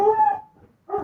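A pet dog howling indoors, two drawn-out tonal howls close by with a short gap between them.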